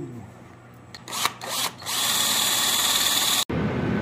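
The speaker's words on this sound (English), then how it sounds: "so we drill the hole in the feet" Handheld power drill boring a hole through the feet of a forged one-piece metal woodpecker in a blacksmith shop; a few short revving bursts, then a loud steady whine that stops abruptly, close up.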